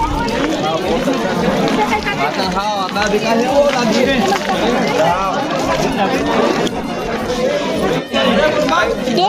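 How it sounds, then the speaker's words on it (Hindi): Dense crowd chatter at a polling station, with many overlapping voices forming a loud, continuous babble close by. "तो भीड़ ला देखो कितना भीड़ है"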